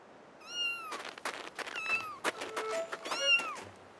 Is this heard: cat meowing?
yes